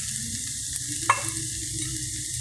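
Sliced beef hitting a hot pan of kimchi fried rice gives a steady, close sizzle with a sharp clink of a utensil partway through, and no talking.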